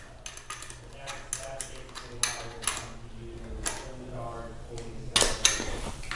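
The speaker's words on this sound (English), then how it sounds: "Then with your 2 wrenches, you want to tighten it down so that the cable does not move." Two wrenches clink and click against each other while tightening a nut on a Pride Mobility Jazzy Select scooter battery cable terminal, with a run of close, light metallic taps and ticks.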